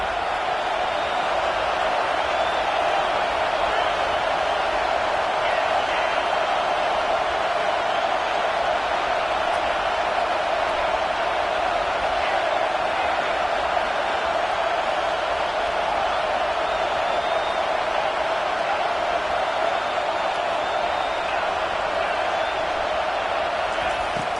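Steady, dense crowd roar filling a stadium in an American football video game, continuous and loud throughout with no breaks.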